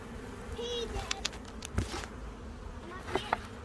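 Honey bees buzz during a hive inspection, a soft continuous hum with brief closer buzzes passing by and a few faint knocks, heard nearby and fairly quiet.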